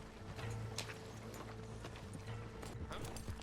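Horse hooves clip-clop at a steady walking rhythm in a Red Dead Redemption 2 roleplay setting, with faint background ambience and no speech.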